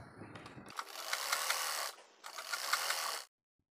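A sewing machine runs a straight seam on a baby top, whirring in two close mechanical bursts separated by a short pause, then stopping.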